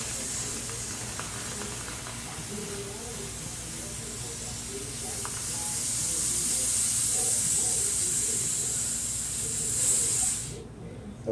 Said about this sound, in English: And I want to purge the line. Take the pressure out of the line.